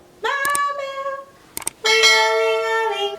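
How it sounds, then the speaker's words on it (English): Two struck bell tones ring out one after another, each a bright metallic clang with a long, shimmering decay, the second louder and fuller, with short clinks before each strike. "Ring my bell so you can stay notified of my weekly videos."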